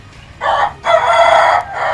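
Ayam Cemani chickens give two loud, close crowing bursts with a clucking edge, separated by a short pause, with no talk over them.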